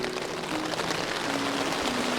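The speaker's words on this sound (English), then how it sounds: "it's raining." Steady patter of rain on a tent at night in the Mourne Mountains, a dense hiss of drops close by with no voices.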